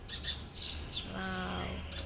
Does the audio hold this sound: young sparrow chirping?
yes